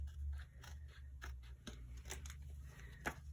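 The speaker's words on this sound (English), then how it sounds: "I'm going to cut the edge of this off." Scissors cutting the edge off a paper planner page, a few quiet snips and paper rustles close up against a low hum, with no talk.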